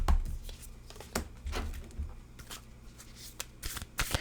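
A deck of oracle cards being shuffled by hand, a series of close riffling and sliding card sounds throughout, steady with brief louder bursts.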